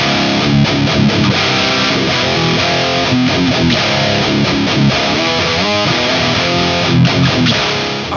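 Heavily distorted electric guitar riffs play continuously through a Crate Blue Voodoo 120 amp's distortion channel, thick and loud with chugging rhythm and no talking.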